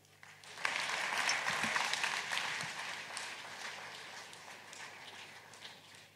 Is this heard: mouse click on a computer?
no